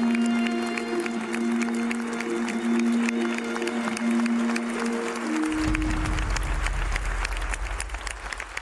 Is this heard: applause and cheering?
yes